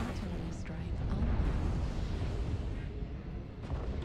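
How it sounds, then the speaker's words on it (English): Artillery strike explosions in a video game, a continuous rolling rumble of heavy booms under a dense battle din, steady and fairly distant. "Artillery strike online."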